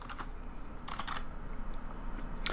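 Quick bursts of computer keyboard keystrokes, a few light clicks at a desk over a steady faint room hum.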